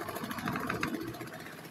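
A repaired spin dryer motor, rewound after failing, runs steadily nearby with a continuous mid-pitched hum and faint rattle, loud and even throughout with no speech.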